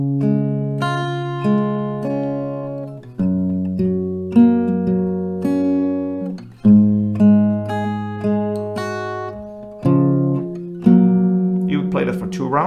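Acoustic guitar strumming the verse chords of a song at a slow, steady pace, loud and close, chords ringing into one another with no voice over them.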